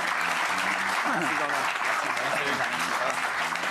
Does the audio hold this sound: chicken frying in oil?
no